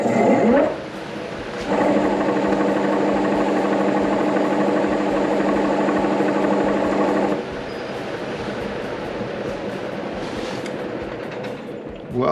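Wood lathe spinning a maple burl blank at 750 RPM, a steady mechanical hum with a rhythmic rumbling whirr that starts up, runs evenly for several seconds, then drops to a quieter background drone.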